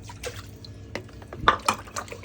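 Water poured and splashed to rinse mud away, irregular splashes and drips that build to louder bursts toward the middle and end, with no voices.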